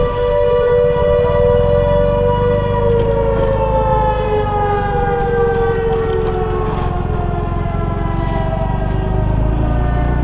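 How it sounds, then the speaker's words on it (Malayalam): A loud, steady siren wails continuously close by near a river bridge, its rising and falling tone sustained over a low engine rumble with no talking. "എന്താണ് സൈറൻ വിളി"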